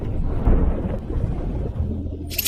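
Deep-sea lightning and thunder effect for an animated fantasy drama set around an undersea volcano field, a loud low rumbling roll with a heavy hit near the start and a bright crackle at the end.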